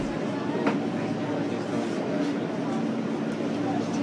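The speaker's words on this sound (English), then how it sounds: "Express train." Subway express train rolling along, a steady close rumble of wheels and car noise with faint rhythmic clicks, continuous throughout.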